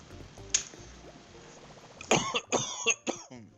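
A person coughs a few times up close, a cluster of harsh, throaty bursts after a near-silent start with a faint click.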